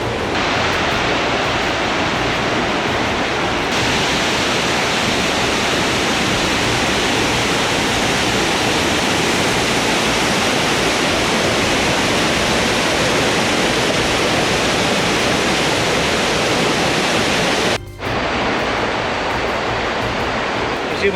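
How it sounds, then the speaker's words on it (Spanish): A swollen jungle river in Sumatra rushes after rain, a loud, dense, unbroken roar of fast water close by, dropping out for an instant near the end before the torrent resumes. "Con el poquitito que llovió, automáticamente subió el río y cambió el color del agua"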